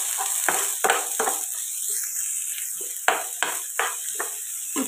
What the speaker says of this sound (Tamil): 2 வெங்காயம் இதில் போட்டுக்கலாம். இது கொஞ்சம் லேசாக வதக்கலாம்.